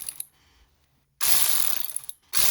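A ratchet wrench loosens a car battery post terminal, first with a few faint clicks, then a loud, close run of rapid ratcheting followed by a brief pause and another burst.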